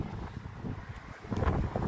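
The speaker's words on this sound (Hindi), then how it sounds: "तेज हवा चल रही।" Strong wind buffeting the microphone, a rough rumbling roar that swells and gusts louder toward the end.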